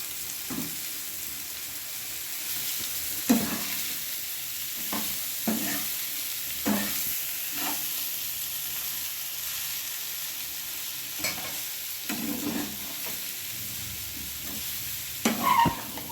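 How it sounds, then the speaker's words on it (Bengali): Flattened rice with fried vegetables being stirred in a pan, a soft continuous sizzle broken by repeated scraping stirs at irregular intervals, close and fairly quiet. "সবজিগুলো ভেজে নিয়েছি। এবার আমি চিড়েটা দিয়ে দিলাম।"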